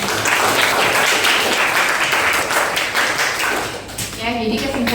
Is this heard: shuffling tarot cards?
no